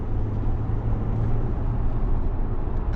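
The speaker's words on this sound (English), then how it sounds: "The 3-litre diesel engine, it does make a nice sound." Low, steady drone of an Audi A7 50 TDI's 3-litre diesel engine heard from inside the car while driving, a muffled constant hum with road noise and no voices.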